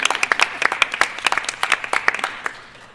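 A panel discussion audience at Pratt Institute claps together, a crisp, fairly dense round of applause that thins and fades toward the end.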